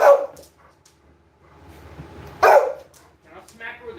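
A dog gives a few sharp barks in a home kitchen where pasta is cooking, one burst at the start and a louder one midway, with quieter sounds and faint voices in between.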